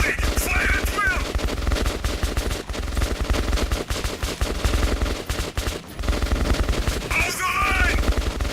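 Heavy, continuous automatic gunfire fills a firefight in the video game Metro 2033 Redux, rapid machine-gun bursts loud and dense throughout, with faint shouted voices mixed in.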